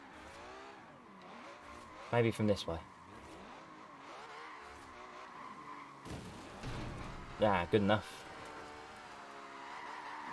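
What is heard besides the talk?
car drifting with tire squeal in video game Forza Horizon 4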